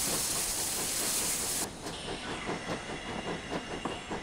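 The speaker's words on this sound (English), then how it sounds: "let's get rid of some steam, we've got too much." GWR pannier tank steam locomotive in Train Simulator 2020 blowing off a loud hiss of steam that cuts off abruptly, followed by a rhythmic chuffing and rail clatter.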